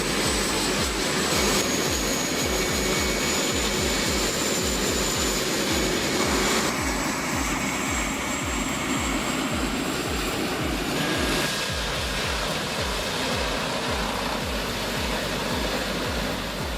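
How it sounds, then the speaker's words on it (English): Lessa Sear JP twin rotary drum debarker with conveyor feed stripping logs for firewood bolts, a loud continuous mechanical roar with rapid rhythmic knocking and clatter underneath, steady throughout. "With twin rotary drums and conveyor-fed precision, this beast strips logs clean in seconds"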